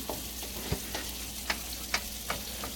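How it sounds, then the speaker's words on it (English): A spoon stirs milk into a roux in a hot pan for Southern country gravy, making a steady sizzle with a handful of soft scraping strokes and light taps at a slow, irregular rhythm, close up and without talk. "maybe a half a cup of milk in there just to start separating that roux, getting the lumps out of it"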